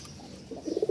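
A lone male pigeon in full breeding heat cooing up close, a quick run of loud, pulsing low coos rising at the end of the moment.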